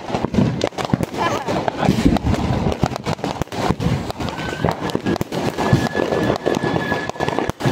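Diwali firecrackers burst in a rapid, dense string of loud cracks and pops, close and continuous throughout, with voices talking among the bangs.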